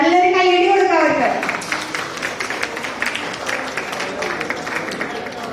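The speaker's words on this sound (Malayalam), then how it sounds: "നല്ലൊരു കയ്യടി കൊടുക്കാം അവർക്ക്" Wedding guests at a Kerala wedding clap for the family, a brief burst of applause near the start that fades under a voice speaking over a microphone.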